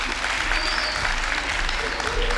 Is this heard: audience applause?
yes